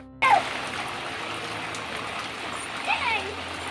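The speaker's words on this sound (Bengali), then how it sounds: "কি ঝড় বৃষ্টি হে ভগবান" Heavy rain of a night storm pours down steadily as a broad, constant hiss after an abrupt start, with a brief surge near the end; no one speaks.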